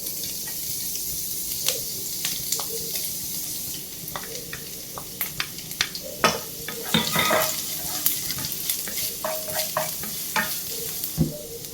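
Chopped ginger, garlic and green chili sizzle in hot oil, a moderate close crackle broken by scattered clinks and scrapes of stirring, with a trickle of running water in places.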